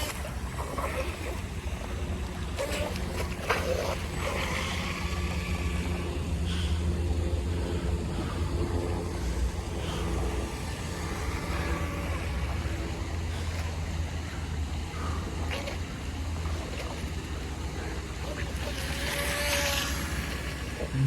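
An RC micro boat with a 3000 kV motor running on water, a continuous buzzing motor whine with wave and wind wash mixed in, moderately distant and steady throughout, with occasional faint voices.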